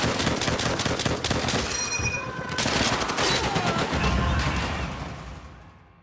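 Gunfire in the video game Call of Duty: World at War, a dense, loud, continuous barrage of rapid automatic shots with battle noise that fades out over the last second.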